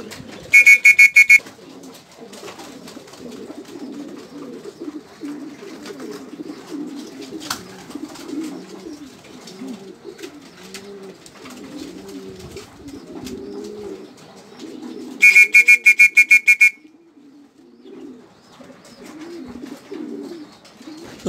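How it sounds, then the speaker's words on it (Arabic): Pigeons cooing continuously at a steady, moderate level, a low warbling murmur that runs throughout, interrupted twice by bursts of sharp, rapid electronic beeping. "كيف كتلاحظوا الحمام مابقاش كيخاف منها بزاف"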